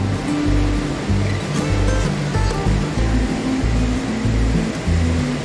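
Steady rushing water of an indoor river at a resort flows continuously at close range, a dense churning wash with a low rumbling undertone and no voices.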